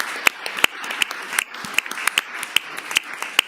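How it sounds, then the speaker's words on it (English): Scattered clapping from a small gathering at a school committee meeting honouring students and families: a thin, uneven patter of individual claps at moderate distance with no talk. "We applaud you."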